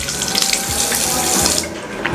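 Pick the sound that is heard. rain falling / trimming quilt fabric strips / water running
water running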